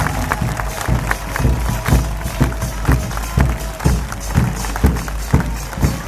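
A crowd at an outdoor political rally in Mar del Plata applauds a speaker loudly and close, the clapping strong and rhythmic with regular pulses, as though many hands beat in time, sustained for several seconds.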